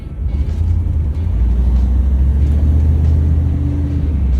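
Road traffic rolling through a town construction zone in Black Mountain, North Carolina, a loud low rumble of a car engine close by, steady and continuous with a slight rise as it accelerates, no voices.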